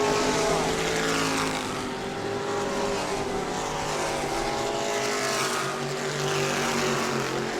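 Stock cars roar around an oval track at New Smyrna in the closing laps of a race, a dense, continuous engine drone with layered pitches rising and falling as the pack circles, loud and steady throughout.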